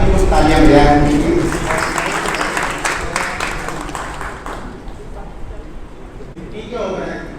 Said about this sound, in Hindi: बाकी लोग तालियां बजाएं उनके लिए